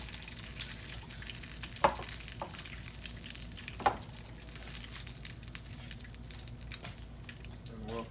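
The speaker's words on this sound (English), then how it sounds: "I'm gonna bread these up, put them in the oil." Breaded chicken pieces fry in oil with a soft, continuous crackle, and a couple of sharper knocks and faint handling sounds rise above the low sizzle. No one speaks.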